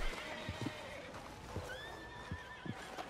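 Agitated horses in the Red Dead Redemption 2 video game let out rising, wavering neighs, with scattered hoof clops and a few soft thumps underneath.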